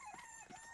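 Cartoon farm chickens give a quick, faint burst of clucking in a single short call, with no talking over it.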